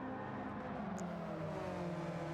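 A street race car engine revving high and steady, a continuous loud whine and drone from a fuel-hungry car during a street car showdown, with no pauses.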